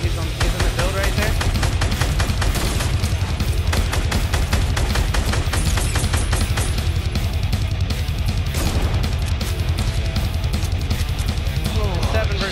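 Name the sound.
gunfire in a video game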